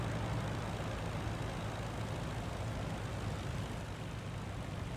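The engine of a Fokker D.VII biplane in the Rise of Flight flight game drones loudly and steadily, a dense, unbroken roar with no pauses.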